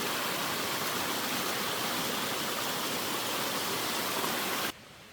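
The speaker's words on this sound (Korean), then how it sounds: "계곡을 자주 만나 시원한 물소리에 더위를 잊을 수 있습니다" Rushing valley stream in a Gapyeong pine forest, a steady broadband wash of flowing water close by that cuts off abruptly near the end, leaving quieter ambience.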